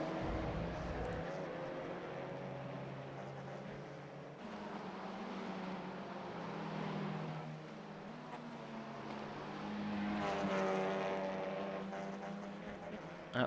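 TCR touring race cars at Brands Hatch in a sim racing game drone steadily, engine pitch rising and falling through gear changes as cars pass, with a commentator talking continuously over it.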